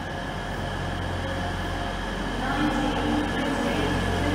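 Low rumbling drone of a train at King's Cross Station with steady mechanical hum, constant and fairly loud, growing slightly stronger toward the end.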